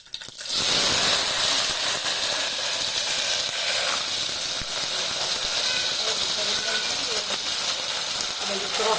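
Spices, including ajwain, hissing as they hit hot oil for a tempering of whole green brinjal curry, a loud sudden sizzle that holds steady and close, with a voice speaking intermittently over it.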